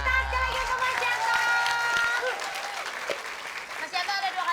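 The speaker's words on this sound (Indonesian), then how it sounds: "Tepuk tangan sekali lagi untuk Mas Yanto." Studio audience applause on an Indonesian TV game show, a steady, loud burst of clapping and crowd noise that swells at once, carries on for several seconds and slowly thins out, with music tones ringing through it.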